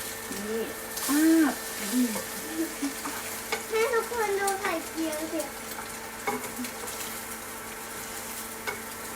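Eggs frying in a pan for an omelette while being stirred, a soft sizzle under intermittent scraping and light utensil sounds, with people talking over it.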